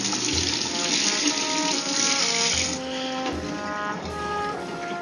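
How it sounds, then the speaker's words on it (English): Cold tap water runs steadily into a kitchen sink while tomatoes and peppers are rinsed under it, a close, continuous hiss and splash for several seconds with no talk. "I'm going to rinse it under the cold water."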